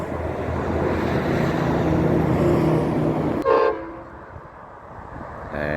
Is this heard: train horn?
yes